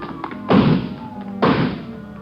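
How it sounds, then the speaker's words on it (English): Radio drama sound effect of a man smashing through garage doors during a 1949 police chase: two loud, heavy crashing thuds about a second apart, close and unaccompanied by talk. "he broke through the garage doors"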